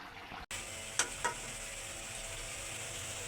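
Fish vuna curry sizzles steadily in a pan, a continuous close frying hiss after a brief cut, with a couple of faint clinks partway through.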